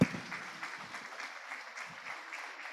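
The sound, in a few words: audience applause after a speech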